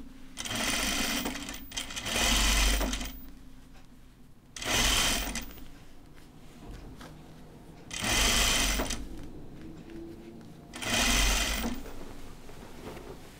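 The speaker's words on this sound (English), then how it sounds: "All right, so I'm gonna sew my hem and I'm done." Sewing machine stitching a shirt tail hem, four close rhythmic bursts of rapid needle chatter separated by quiet pauses.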